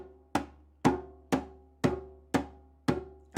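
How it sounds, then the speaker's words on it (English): Hand drum struck in simple single-stroke beats: seven even, evenly spaced hits about half a second apart, each with a sharp attack and a short ringing decay, played alone and close. "So I'm going to start with some simple single stroke roll kind of beats"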